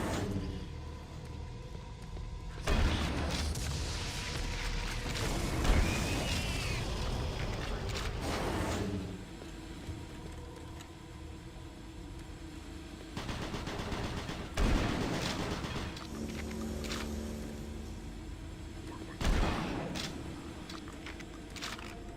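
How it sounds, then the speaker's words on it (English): Shotgun blasts in a shooter video game, several booming shots spread across the stretch with bursts of firing and game noise in between. "Now that's a shotgun."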